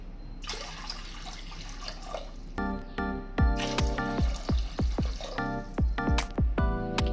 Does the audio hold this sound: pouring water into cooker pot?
yes